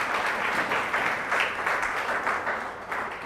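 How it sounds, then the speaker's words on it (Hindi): A church congregation gives loud, steady applause in thanks to Jesus Christ, a dense wash of clapping that lasts about three seconds. "आइए जोरदार ताली से खुदावन यीशु मसीह का धन्यवाद करें"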